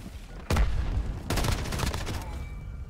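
Video game gunshots: one sharp report, then a quick cluster of rapid shots a moment later, fairly loud, with a faint ringing tail afterward.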